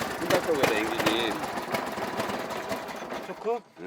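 A Honda engine fitted to a homemade special vehicle runs with a rapid, rattling mechanical chatter nearby, while people talk over it.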